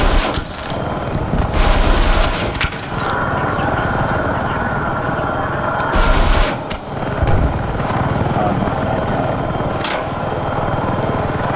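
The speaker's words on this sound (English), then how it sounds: "lots of shots" In Battlefield 6, a helicopter and jet battle delivers loud, close bursts of automatic gunfire. The rapid volleys cut in and out over a constant mechanical rumble, with several sharp booms along the way.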